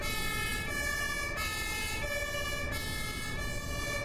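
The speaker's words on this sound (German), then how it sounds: "Ein bisschen mit Blaulicht, mit... Martinshorn." A German fire engine (HLF) runs with blue lights and its two-tone Martinshorn siren, which alternates steadily in a loud, continuous pattern over road noise.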